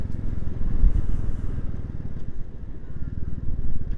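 A Royal Enfield Classic 350 motorcycle cruising on a road near a lake, its engine droning steadily with a low, even thump and wind noise throughout, no voices.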